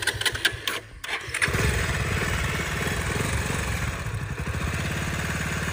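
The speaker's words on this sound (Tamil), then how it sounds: "வண்டி திரும்ப ஸ்டார்ட் பண்ணிட்டாப்புல." A vehicle engine sputters and catches after a few faint cranking bursts, then settles into a steady, close running drone with slight revving, with no talk over it.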